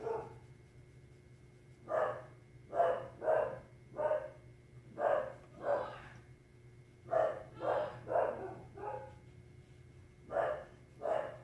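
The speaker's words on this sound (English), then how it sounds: "Apparently my dog sees somebody and thinks he has to bark." A dog at home barks repeatedly in short, evenly spaced bursts, some in quick pairs, at a moderate distance indoors with a faint steady hum underneath and no talking.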